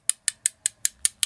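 Seven quick, evenly spaced metallic taps on a metal lightsaber emitter, bright and clicky, close up and fairly quiet with silence between each.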